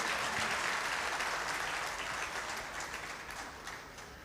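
An audience at an Urdu conference applauds a poet in a dense, sustained round of clapping that slowly fades.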